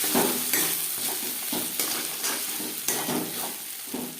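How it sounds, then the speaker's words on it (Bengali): Mashed taro paste being stirred with onion in a hot pan, a steady scraping stir over continuous sizzling frying, with occasional soft utensil knocks against the pan. "পেঁয়াজের সাথে একটু বেশ ভালো করে মিক্স করে দেবো।"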